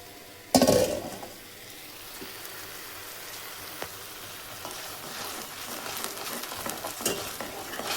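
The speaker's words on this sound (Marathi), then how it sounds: "आता हे चांगलं शिजून देते म्हणजे चांगलं फ्राय होऊन देते" Spiced gravy for rajma (kidney beans) fries in a pan with a steady low sizzle, and a sharp clatter of stirring comes near the start. Softer scraping stirs continue throughout, close and alone, with no voices.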